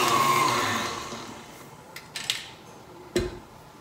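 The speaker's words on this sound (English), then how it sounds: "I turned my machine up to high just for the last couple minutes so that it would break up those clumps of cake mix" Electric stand mixer whirring on high as it beats boxed cake mix batter, a steady loud hum that fades down over the first seconds, followed by a few sharp clinks and a knock against the bowl.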